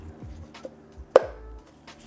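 A single sharp click near the middle as a part snaps into place while a new O-ring is fitted, preceded by a few softer taps and handling noises in a quiet setting.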